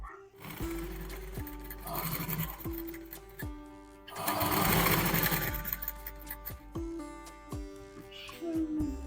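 A sewing machine stitches a blouse in short whirring bursts separated by brief pauses and clicks, close and moderately loud, with a louder sustained run in the middle.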